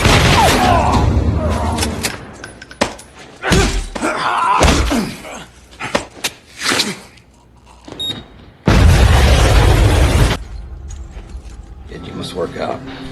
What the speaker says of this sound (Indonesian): Ledakan besar terjadi, dan Frank menembaki semua musuh yang tersisa